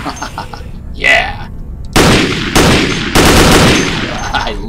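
A powerful gun in Dead Effect fires heavy, loud blasts, three big roaring shots in close succession after a brief electronic whine and short voice at the start.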